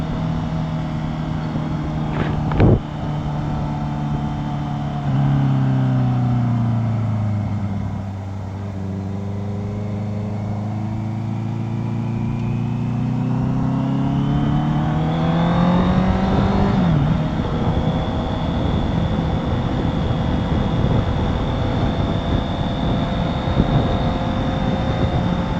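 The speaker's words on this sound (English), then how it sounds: "I do hope you guys can hear the exhaust." A Honda CBR650F inline-four motorcycle exhaust drones steadily while riding, with rising and falling engine pitch as it accelerates and shifts, loud and continuous over wind noise.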